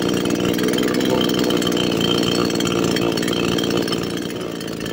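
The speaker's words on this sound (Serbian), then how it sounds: "naša motorna testera AGM 5400 je spremna za rad" An AGM 5400 chainsaw engine running steadily close by, a loud continuous buzzing drone that eases slightly in level near the end, with no voices.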